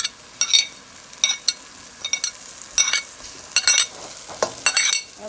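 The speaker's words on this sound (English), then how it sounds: "I'm gonna add my red onion that I had chopped up." Chopped red onion stirred into a hot pot with chickpeas and kale, giving repeated scraping and clinking strokes of a utensil against the pot over a faint sizzle, with no talk.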